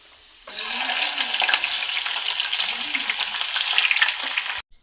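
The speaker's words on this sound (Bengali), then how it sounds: "আমি এবার পেঁয়াজ কিছুটা ভেজে নেব, সবটা ভাজবো না, কিছুটা ভাজবো" Onion frying in hot oil in a pan gives a loud, close, continuous sizzle that starts abruptly, with occasional stirring scrapes through it, then cuts off sharply at the end.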